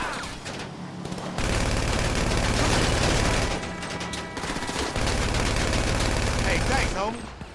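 Gunfire in GTA Online during a car chase: dense bursts of automatic weapon fire rattling in long sustained volleys, loud and close, with a brief lull between them and someone shouting over the shooting.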